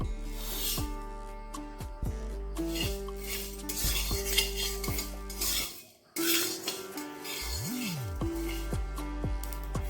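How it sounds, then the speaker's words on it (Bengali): A metal spatula stirs and scrapes dry spices, including fenugreek and mustard seeds, around a dry pan, with steady repeated clinks and scrapes and a brief pause midway. "এটা এবার আমি শুকনো খোলায় ভেজে নেবো"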